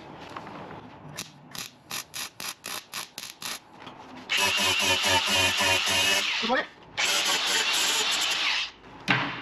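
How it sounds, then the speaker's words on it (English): An angle grinder smooths a welded repair panel on a Ford Transit van: first a string of short, stuttering bursts, then a long loud harsh grinding whine that drops out briefly and resumes, close up. "smoothing it off with the grinder, so it, there's no step"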